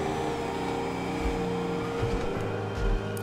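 A car in GTA 5 drives along with a steady engine hum and road noise, a few low thumps and light revving, moderately quiet and with no talk.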